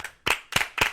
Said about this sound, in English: Clap it out for green M&Ms.